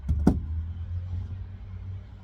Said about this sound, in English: I love how you can hear the trash truck in the background too